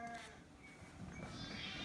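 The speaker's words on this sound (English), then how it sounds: "The noisy sheep were spoiling his peace and quiet" Sheep bleat loudly and close by, a couple of wavering calls overlapping one another against a quiet rural background.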